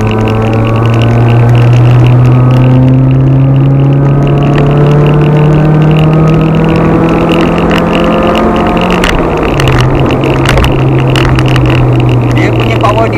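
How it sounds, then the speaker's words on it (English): Toyota Celica ST202 with a 3S-GE engine drives steadily, its exhaust giving a loud continuous drone with a smooth pitch shift near the middle, under ongoing talk from people inside the car. "Tapi exhaust ni okey lah. Dia tak bising sangat tapi ada suara sikit."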